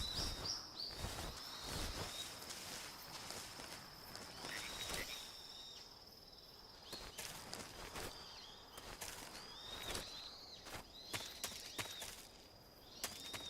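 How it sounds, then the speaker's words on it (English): Frogs croak in a jungle in the video game Metal Gear Solid 3: Snake Eater, a faint, steady chorus of repeated high chirping calls over quiet ambience. "Oh, frogs."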